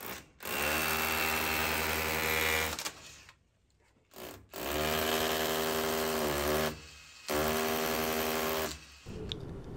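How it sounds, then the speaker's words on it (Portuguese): A Makita DHR171 18-volt cordless rotary hammer drill runs in three long bursts of rattling, hammering mechanical noise, separated by short pauses, close and loud. "Agora a gente vai ver o martelete da Makita DHR171 em ação."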